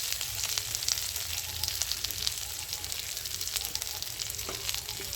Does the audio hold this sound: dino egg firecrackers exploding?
no